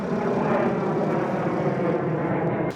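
A 2016 Mercedes-Benz Sprinter van drives along, its engine and road noise forming a steady loud drone heard from inside the cabin without any talk.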